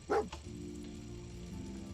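Dogmeat, the dog in Fallout 4, lets out one short, fairly faint bark, followed by quiet game ambience with a low steady hum.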